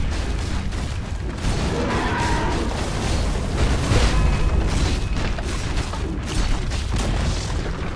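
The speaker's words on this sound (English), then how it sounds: "Dire's middle tower has fallen." A Dota 2 tower collapsing in a game match, a dense rumbling crash and crumbling debris that keeps going at a steady, loud level with no talking.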